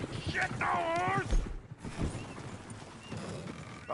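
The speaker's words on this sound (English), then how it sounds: "Oh, shit, the horse!" A horse in the video game Red Dead Redemption 2 whinnies briefly amid hoof clatter and game noise, with people talking over parts of it.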